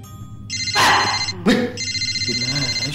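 An unanswered telephone rings in a horror-movie scene, two bursts of a steady electronic ringtone separated by a short gap, with a loud thud or voice cutting in between and faint background noise throughout.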